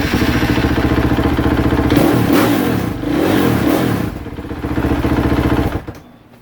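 A KTM 450SXF four-stroke motorcycle engine fires up and revs repeatedly, loud and close, with rising and falling throttle blips before shutting off.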